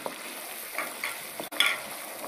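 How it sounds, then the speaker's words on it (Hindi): Tomato paste and turmeric powder going into masala frying in oil, a soft close sizzle with scraping stirs and a few light clinks. "तो अब मैं इसके अंदर ये टमाटर का पेस्ट डाल दूंगा और ये हल्दी पाउडर आ गया"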